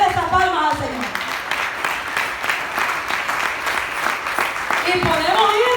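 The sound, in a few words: congregation applauding in church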